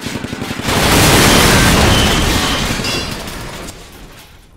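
A loud, continuous salvo of gunfire in the video game Silent Storm, rapid shots blurring into a dense roar with booming impacts, tapering off toward the end.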